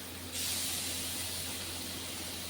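Grated garlic hits hot oil in a pan where shrimp have just been fried, bursting into a sudden loud sizzle that settles into a steady, close hiss.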